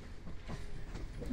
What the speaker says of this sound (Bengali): আমাদের ট্রেন তার মধ্যে 2টো স্টেশন স্কিপ করবে এবং 20টা স্টেশনে দাঁড়াবে।